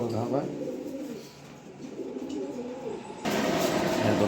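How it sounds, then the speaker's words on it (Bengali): A large female pigeon coos in soft, low repeated rolls at close range, joined by other bird sounds and background noise, with someone speaking over part of it. "এই মাদি কবুতরটা যদি কোনো ভাই বন্ধু যদি কালেকশন করতে চান করতে পারেন"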